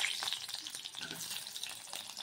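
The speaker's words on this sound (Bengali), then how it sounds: "আলুটা আগে ভেজে নেব" Potatoes fry in hot oil in a kadai for a prawn curry, giving a steady close sizzle with crackling bursts throughout and no talking.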